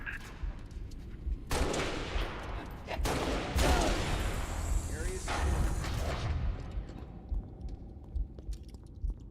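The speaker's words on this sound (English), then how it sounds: "Our right out of here is taking heavy fire." Heavy gunfire and explosions from the Halo: Reach battle, loud and dense in repeated bursts, with voices talking partly over the shooting before it fades out.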